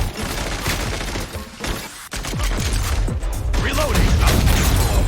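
Rapid bursts of gunfire mixed with mechanical clicking and ratcheting from reloading in the video game Genshin Impact, loud and sustained, with character voices calling out over the shooting.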